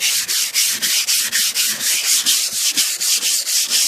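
Hand sanding scrubs the body of a 1988 Cadillac DeVille in steady, rhythmic back-and-forth strokes, close and loud, about four rasping passes per second with no voices.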